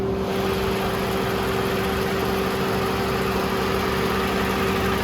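A Scion tC's engine idles just after starting, a steady, close, even hum with a constant low drone and no change in pitch, heard alone for the whole stretch.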